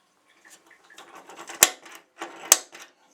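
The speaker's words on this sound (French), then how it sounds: "Je prends mon marqueur là, mon pointeau, et je fais, avant de couper, ma trace au centre." A center punch marks the cutting point on a workpiece before scroll-saw cutting: two sharp, loud metallic taps about a second apart, surrounded by quieter rustling and handling noise.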